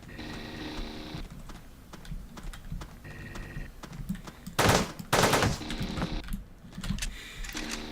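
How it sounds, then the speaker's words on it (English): Rapid bursts of automatic fire from a machine gun in the top-down shooter game Teleglitch, with dense crackling volleys, brief pauses, and two loud blasts near the middle, steady throughout with no voices. "Let's say we switch over to machine gun."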